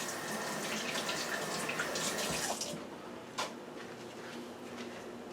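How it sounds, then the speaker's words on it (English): Tap water runs steadily into a sink for hands being washed during smoothie preparation, a loud continuous splash that drops to a quieter trickle partway through, with one faint knock near the end and no talking. "Wash my hands."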